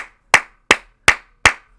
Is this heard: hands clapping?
yes